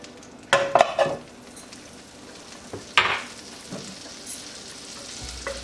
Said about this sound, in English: Now when you hear the sizzling sound of the butter,